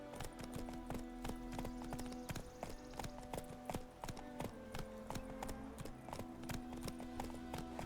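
Horse hooves clip-clop at a steady trot in The Witcher 3, a rhythmic string of close, crisp hoof strikes over a constant ambient background.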